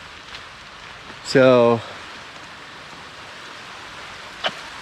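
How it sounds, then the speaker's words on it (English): Rain falling outdoors in the UAE, a soft steady hiss throughout, briefly interrupted by someone speaking a word close by. "see, it's raining."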